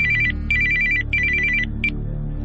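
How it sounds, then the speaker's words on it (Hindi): An incoming call's phone ringtone plays loud and close, a bright repeating electronic melody in three quick bursts with a short fourth chirp, over a low background hum. "7 बजे उसका फोन आया।"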